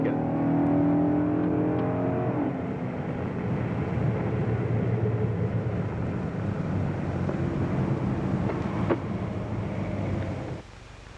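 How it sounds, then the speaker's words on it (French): A 1969 Dodge Daytona's 426 cubic inch Hemi V8 race engine roars steadily, rising briefly at the start and then holding a loud, rough drone before cutting down at the end. "cette voiture est lourde et très rapide puisqu'elle est dotée d'un moteur de 426 pouces cubes à culasse hémisphérique"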